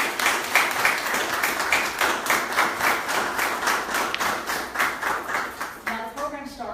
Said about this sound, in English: I'd like for you all to join me in a round of applause for all of our sponsors.